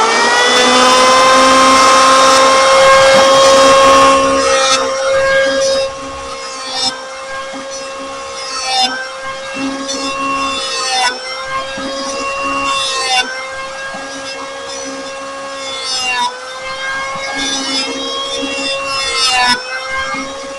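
A power planer shapes a hickory selfbow with a loud, continuous whining buzz and steady tonal hum, rising and dipping as the tool runs over the wood in long passes.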